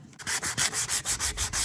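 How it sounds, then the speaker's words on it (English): Sandpaper of 220 grit rubbed by hand over a white tumbler, scuffing its surface in quick, steady back-and-forth strokes, about eight loud rasping passes with no talk. "got 220 grit sandpaper and a tumbler which is already white. You just want to sand all over"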